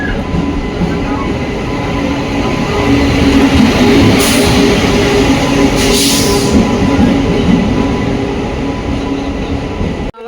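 Gitanjali Express rolling into a station platform, a loud continuous rumble of wheels and carriages with faint clatter, steady throughout, with a brief hiss in the middle and some voices underneath.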